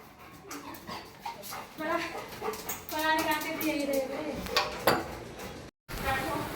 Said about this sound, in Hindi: मम्मी हमारी बर्तन धो रही हैं।